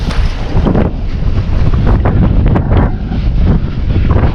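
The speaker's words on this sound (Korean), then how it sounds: "damn wind" Strong wind buffets a microphone outdoors during wheelie bike riding, a loud, constant low roar and rumble that fills the whole clip with no voices.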